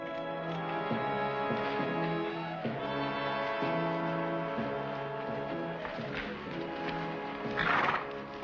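Horses trot with a steady clip-clop of hooves, and a whinny rises near the end over a continuous tonal background.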